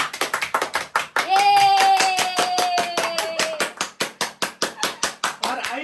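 Small family group clapping in celebration at home, sharp rhythmic handclaps in a steady beat close by, with a sustained voice heard over the middle stretch.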